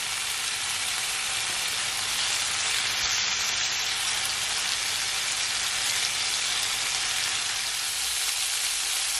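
Food sears undisturbed in a hot pan, a loud, continuous broadband sizzle like steady rain, unbroken for the whole stretch with no talking.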